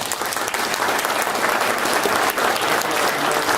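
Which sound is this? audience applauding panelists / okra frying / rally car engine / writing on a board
audience applauding panelists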